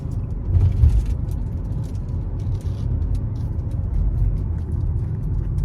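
A car drives out of a residential subdivision toward the highway, its engine and road noise a steady, loud low rumble from inside the vehicle, with no voices.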